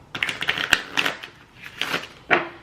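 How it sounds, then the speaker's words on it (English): Oracle cards being shuffled by hand, several quick papery riffles and slaps in uneven bursts, close and fairly soft, with no talk over them. "All right, Spirit, I'm gonna give 3 good shuffles here."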